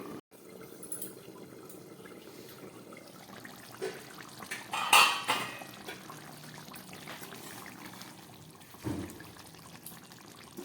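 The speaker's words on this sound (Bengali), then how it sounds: "আমি একটা ঢাকা দিয়ে দিচ্ছি" A lid is set down on a cooking pot over a low gas flame. One short, clear clatter rises from a quiet kitchen background of faint bubbling.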